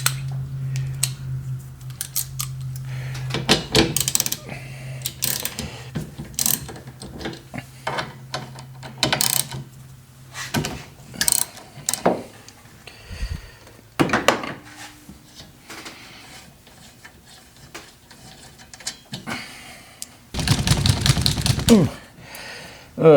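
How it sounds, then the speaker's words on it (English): A ratchet wrench clicks in bursts while loosening 15 mm nuts on the windshield wiper arms of a 2011 Ford Fiesta. Metallic ratcheting, knocks and tool handling sounds come close and intermittently, with occasional talk in between. "I believe that's a 15 millimeter nut, so I'm going to take those off."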